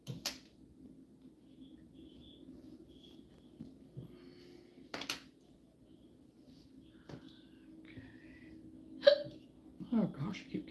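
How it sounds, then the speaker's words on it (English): Repeated hiccups from a woman chatting during a crochet livestream, a few sharp short bursts spaced seconds apart over a faint steady hum, with the loudest pair near the end. "Oh gosh, I keep getting the hiccups."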